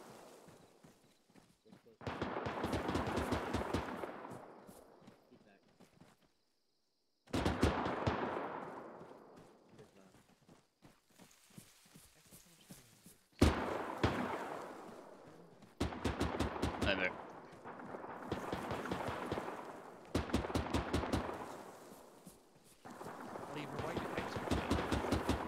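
Bursts of heavy machine gun fire in a World War II style tactical shooter, coming in several long rattling volleys with gaps between them.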